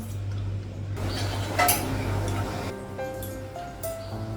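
A thin metal wok is set down on a home kitchen stove, giving a single metallic clunk midway through a steady low kitchen hum.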